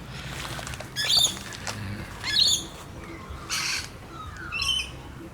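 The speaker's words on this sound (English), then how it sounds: "the rainbow lorikeet." Rainbow lorikeets squawking outdoors in green parkland, four short harsh bursts spaced about a second apart over a steady background hiss, fairly near and moderately loud.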